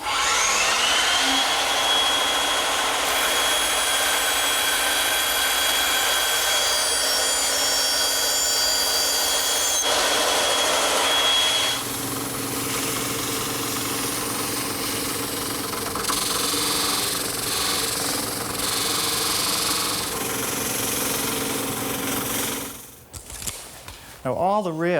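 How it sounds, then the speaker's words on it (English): A bandsaw cutting a wooden rail for an umbrella stand runs with a steady whine and motor hum for about twenty seconds before winding down, with some talk near the end. "I'll just use my bandsaw."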